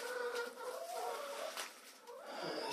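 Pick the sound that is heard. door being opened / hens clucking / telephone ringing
hens clucking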